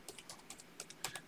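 Typing on a computer keyboard, a quick uneven run of light, close key clicks with a few sharper taps, no voices.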